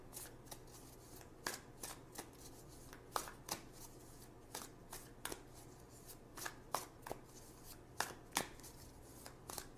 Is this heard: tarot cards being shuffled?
yes